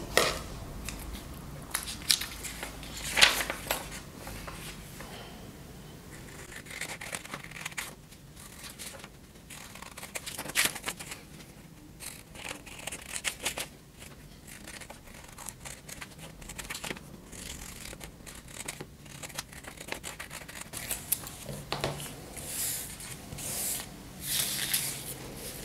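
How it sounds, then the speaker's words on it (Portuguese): Scissors snip through paper to cut out mask templates, producing intermittent quiet crisp cuts and rustling in irregular bursts, close up and without talking. "Agora vamos só cortar."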